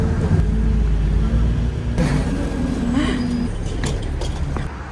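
Steady low rumble of a moving bus heard from inside during an early-morning transfer to the airport in Turkey, with a constant engine drone, faint road noise and a few soft knocks, while a voice murmurs briefly.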